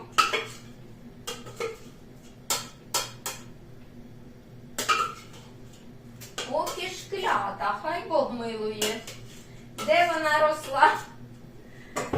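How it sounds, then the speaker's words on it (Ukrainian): Onion tipped into a pan and stirred gives a scattering of sharp utensil clinks and scrapes, close and fairly quiet, alternating with someone talking over a low background hum. "І зараз швиденько сюди висипаю цибулю, перемішую"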